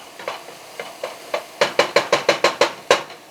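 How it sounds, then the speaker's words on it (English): A spoon stirs chicken Alfredo fettuccine in a pan: about fifteen scraping strokes, a few soft and spaced at first, then a quicker, louder, steady rhythm, with no talking. "Just want to stir that around lightly."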